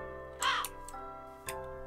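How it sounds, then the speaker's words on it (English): A crow in the video game Minecraft caws twice, a loud harsh call followed about a second later by a shorter, fainter one, both over a steady humming game soundtrack with no talk. "Am I befriending the one stupid crow?"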